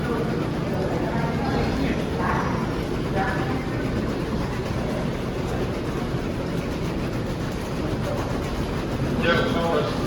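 An airport people mover train at Pittsburgh International Airport rolls along with a steady rumbling drone and faint rhythmic clatter, while people talk nearby over the continuous ride noise.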